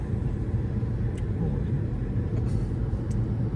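Steady low rumble of a car interior while sitting in traffic heading into Cardiff city centre, with engine and road drone continuous and a few faint brief clicks or squeaks over it.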